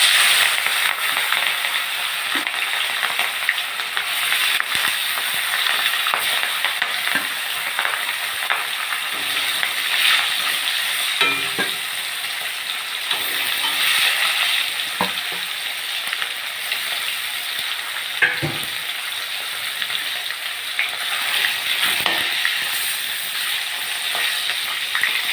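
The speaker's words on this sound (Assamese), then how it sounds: "মাছকেইডোখৰ ফ্ৰাই কৰি মোৰ হৈ গ'ল" Fish pieces frying in hot salted oil in a home kitchen pan, a steady, close sizzle and crackle with scattered pops and spits running continuously, with no talking.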